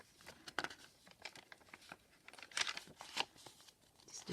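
Sheets of journaling paper and tea-stained baking paper are handled close up, giving soft irregular crinkles, rustles and brief crisp snaps, faint and without talk.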